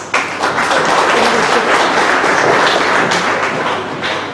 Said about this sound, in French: vous pouvez d'applaudir Nishta Judy qui est candidate dans la circonscription numéro 16.